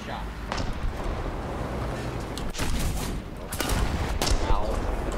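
A tank cannon fires in the War Thunder video game amid bursts of gunfire and booms at a T-54 matchup, while players talk over the shots.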